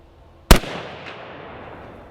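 A single sharp, loud shot from an HK sporting rifle cracks close by, followed by a fading echoing tail and a faint second reflection in otherwise quiet surroundings.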